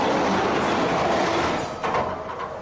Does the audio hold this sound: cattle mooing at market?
no